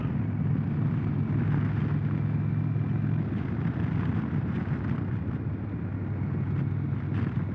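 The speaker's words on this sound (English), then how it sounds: "you can definitely feel that bike start to rumble." Indian Chieftain Dark Horse 116 motorcycle engine rumbling steadily at speed, a deep continuous low throb mixed with heavy wind rush, loud and close throughout with no talking.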